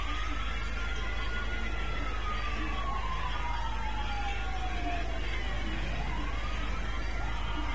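Wailing police and ambulance sirens in the video game GTA V Online sweep up and down at moderate distance over a steady low engine and traffic rumble.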